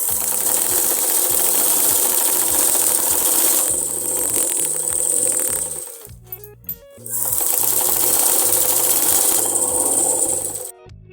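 Domestic sewing machine stitching Afghani salwar fabric, running in fast rhythmic bursts of needle clatter, with a brief pause in the middle before stitching resumes and stops near the end.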